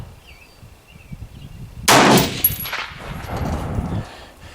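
A Lencac SC 1903A4 rifle fires once on an outdoor range, a single loud, sharp report followed by a long rolling echo that fades slowly.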